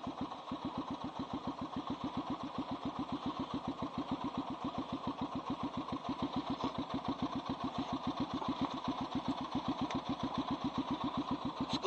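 A 1985 Honda XR350R motorcycle with a loud pipe idles close by, its single-cylinder beat thumping in a steady, even rhythm the whole time with no other sounds.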